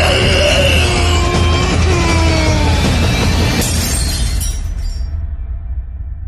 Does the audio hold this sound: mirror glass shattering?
yes